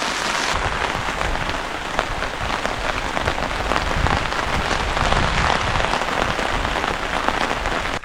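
Steady, heavy rain pours onto a surface at a campsite in New Zealand, a dense continuous patter with scattered louder drops and no voices.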